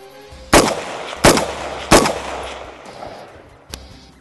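Faxon ARAK-21 rifle fired outdoors after being frozen in ice, with three loud, sharp shots spaced about a second apart, each followed by a fading echo, and then a fainter fourth report.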